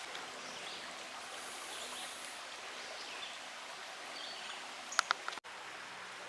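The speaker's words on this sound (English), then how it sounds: "enjoy the quiet of the Still River as it flows by here" Quiet river water flowing steadily beneath a bridge abutment on the Still River, a faint, even wash with a few brief clicks and rustles near the end.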